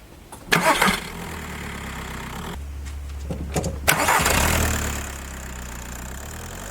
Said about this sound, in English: And when we turn the engine over,